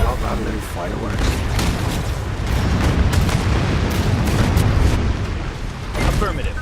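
Artillery fire and explosions in the futuristic strategy game Anno 2205, a dense, continuous barrage of booms and sharp impacts piling over a heavy low rumble, loud throughout with no pause.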